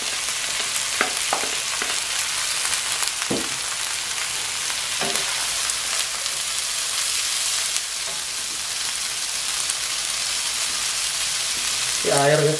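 Tomato and bean sprouts stir-frying in a pan, a constant loud sizzle with occasional scrapes and clinks of a utensil, and a brief voice near the end.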